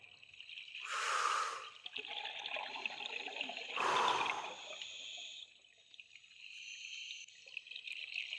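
An audience at a water-themed talk draws breath together for a breathing exercise, two loud collective gasping inhales a few seconds apart, with faint breathy rustle between them.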